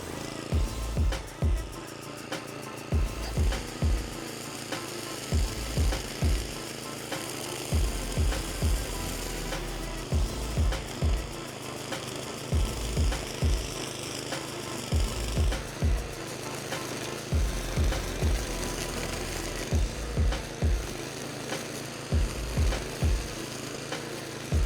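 A DR Power trimmer mower runs steadily through dense vegetation, its constant engine drone broken by repeated low thumps and bursts of strain as it chews into thick growth, in irregular clusters over about twenty-five seconds.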